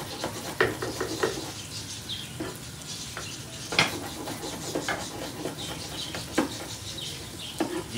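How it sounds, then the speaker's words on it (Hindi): Onions fry in a pan in a home kitchen for a spicy curry, a steady low sizzle with occasional stirring scrapes and clinks of a spoon against the pan, close and moderately quiet, with no talking. "प्याज जो है वो फ्राई होना स्टार्ट हो चुका है"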